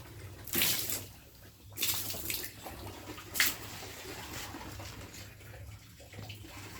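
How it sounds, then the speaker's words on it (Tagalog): Water poured over a rusty young coconut, arriving in several short splashing gushes between quieter moments, faint and close by. "Buhusan ko na lang talaga ng tubig."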